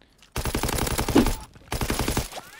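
STG assault rifle firing in Call of Duty World War II, two long rapid-fire automatic bursts with a short pause between them, loud and close.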